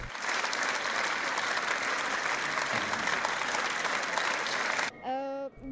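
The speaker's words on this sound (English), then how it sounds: "Audiences showed huge interest in the performances, with storms of applause after each act." A crowd applauds after a water puppetry performance, a broad, sustained roar of clapping that runs for several seconds and then cuts off abruptly, replaced by a brief tonal musical sound.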